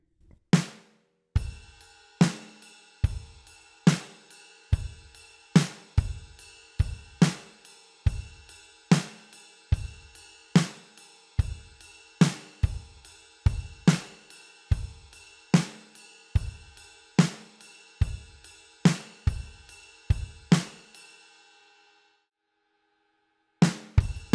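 A drum kit plays a simple repeating beat, crisp kick and snare hits at a steady quick pace with cymbal wash, stopping cleanly near the end.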